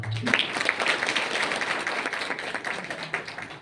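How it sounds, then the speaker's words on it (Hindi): An audience at a public meeting claps together in honour of former Indian President Pratibha Patil, giving a short burst of steady, fairly close applause. "प्रतिभा पाटिल सिंह के सम्मान में जोरदार तालियां।"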